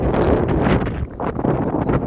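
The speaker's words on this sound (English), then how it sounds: "It's getting really windy. It's kind of, I don't know, it's kind of blowing a bit, almost a storm now." Strong wind buffets the microphone in a steady, roaring rush with brief lulls, loud and continuous throughout, at a grave site in New South Wales as a storm builds.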